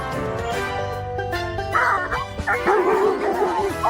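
A small, excitable puppy barks and yips in quick, high-pitched bursts over a busy, music-like background, the yelps growing louder and more frantic in the second half.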